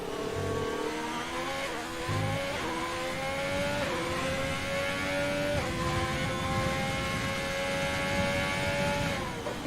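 Formula 1 car in F1 2020 on a fast lap at the Australian Grand Prix, its engine wailing high and steady with rising pitch sweeps through upshifts, a continuous loud onboard drone.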